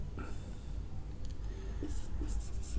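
Pen strokes scratching across paper as a question is written out by hand in a chemistry lesson, with faint intermittent scribbles over a low background hum and no talking.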